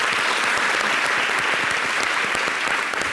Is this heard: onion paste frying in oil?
no